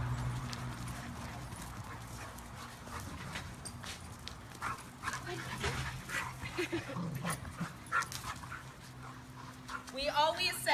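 Shelter dogs romp and play together, giving scrabbling paw steps, panting and a few small whimpers under steady talk, with a louder burst of activity at the end.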